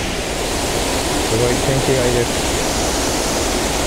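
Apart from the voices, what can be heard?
large waterfall in Hotel New Otani garden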